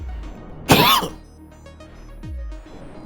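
A single harsh cough bursts out close to the microphone, followed moments later by a softer throat-clearing rasp, in a quiet indoor room.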